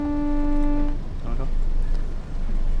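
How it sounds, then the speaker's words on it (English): Horn of a Class 101 diesel multiple unit in Train Sim World 2 on the Leeds to Huddersfield line, a single loud, steady two-second blast that cuts off abruptly. Engine rumble and faint cab noises follow. "But it does have a nice horn."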